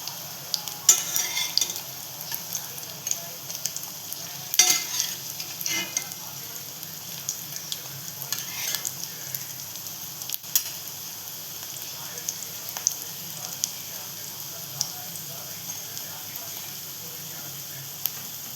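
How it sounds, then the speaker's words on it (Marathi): Cabbage leaf snacks frying in a pan over low to medium gas heat, giving a steady soft sizzle with occasional stirring and utensil scrapes throughout. "कमी गॅसवर आपण घेतो तळून त्यांना"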